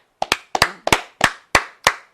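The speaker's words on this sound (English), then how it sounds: "I love the 2 claps." Quick double hand claps repeat six times in a steady rhythm, sharp and close, with no talk, on a pro wrestling talk show.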